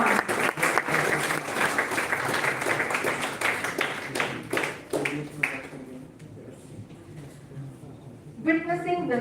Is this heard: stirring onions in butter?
no